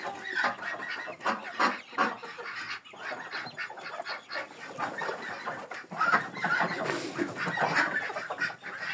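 Chickens and roosters in a farmyard clucking and calling in overlapping bursts, with occasional louder crows, fairly close and steady throughout.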